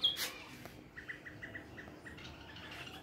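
Small birds perched on a house roof give faint, quick chirps in a short repeated series over a soft, steady outdoor background.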